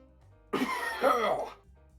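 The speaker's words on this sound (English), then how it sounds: "No, that was me coughing." A single harsh cough, loud and close, bursting out in a couple of rough pulses over about a second during a tabletop role-playing game session, with quiet room noise before and after.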